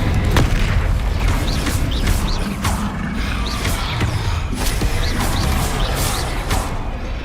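Repeated booming spell blasts, including an Incendio fire spell, in a Hogwarts Legacy video game duel, a steady series of loud impacts over a constant rumbling background with no talking.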